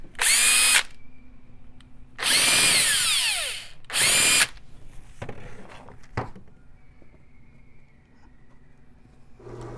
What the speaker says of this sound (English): I have to come with a step bit and just barely widen that hole